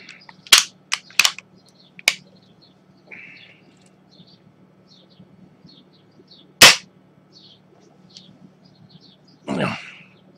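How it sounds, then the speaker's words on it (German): Daisy 1894 BB air rifle firing at a soft carpeted floor indoors in an apartment, with a few sharp, loud snaps spaced irregularly, alongside quieter mechanical clicks and faint background hum. "jetzt muss ich halt sinnlos 10 mal schießen, aber natürlich schieße ich ja auf den Boden"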